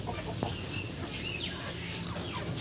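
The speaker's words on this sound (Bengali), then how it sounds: "5টা মোরগ রয়েছে, এবং বাকি সব মুরগি রয়েছে" Chickens and roosters on a poultry farm with golden-type hens cluck and call continuously at close range, one crow-like note standing out among the flock's chatter, with no voices over them.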